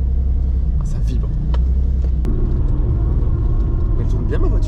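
A car fitted with reinforced engine and gearbox mounts runs roughly just after starting, a loud, close, steady low rumble with vibration and faint rattles, while a person speaks quietly over it.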